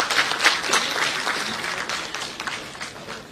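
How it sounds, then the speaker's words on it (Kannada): Audience applause honouring film figure Rajendra Singh Babu at a public event, a dense steady patter of many hands clapping throughout, fairly close and tapering slightly toward the end. "ಅದಕ್ಕೆ ಅವ್ರನ್ನ ಗೌರವಪೂರ್ವಕವಾಗಿ ಎಲ್ಲರೂ ಚಪ್ಪಾಳೆ ಮುಖಾಂತರ ಸನ್ಮಾನ ಮಾಡೋಣ ಅಂತ"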